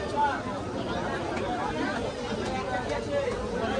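Dense crowd chatter fills the local Digha market, a steady babble of many nearby voices with no one voice standing out.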